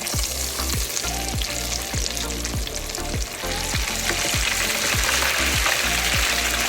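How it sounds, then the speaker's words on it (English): Catfish nuggets deep frying in hot grease, a loud, dense, constant bubbling sizzle with a rhythmic clatter repeating through it. "let's drop these bad babies in the grease"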